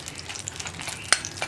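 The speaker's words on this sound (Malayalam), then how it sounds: "വറ്റൽമുളകൊന്ന് ചൂടാക്കിയെടുക്കുക" Dried red chillies heat in a pan for a shallot and dried shrimp chutney, giving a soft, faint sizzle with small stirring scrapes and one brief sharp clink near the end, with no talk.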